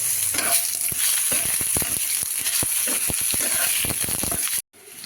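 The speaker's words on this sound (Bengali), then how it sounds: "আলুগুলো আমি একটু মিডিয়াম ফ্লেমে দিয়ে আলুগুলোকে একটু ভেজে নেব" Potatoes fry in oil over a medium flame, a close, continuous sizzle broken by repeated scraping and clattering stirs of a spatula against the pan, then a brief pause.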